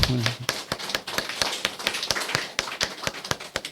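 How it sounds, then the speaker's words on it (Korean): Church congregation clapping together in a steady, fast rhythm during a Sunday worship service, loud and close, with a brief voice at the very start. "큰 박수"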